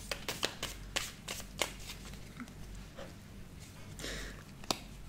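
A rarely used deck of cards with no cardboard cards, shuffled by hand, giving a series of quick riffling and snapping bursts, close and soft, with no speech.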